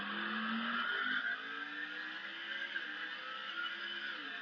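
A race car engine in NASCAR 08 on PS3 drones steadily as the car pulls away from pit road, a loud continuous tone that rises briefly and then settles into a sustained higher whine.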